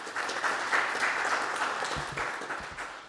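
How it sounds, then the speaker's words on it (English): Audience applause at a community college district board meeting, honoring the men's volleyball team and their coaches; steady dense clapping from a seated crowd, holding level for about three seconds. "so big round of applause for them"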